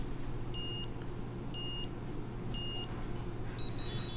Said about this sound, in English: at the end of our lap at 5 seconds, we'll get an audible alarm to say that we're almost done our lap.